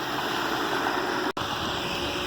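Continuous rushing spray of water jetting forcefully from a pool sand filter, steady and loud, with one very brief dropout partway through.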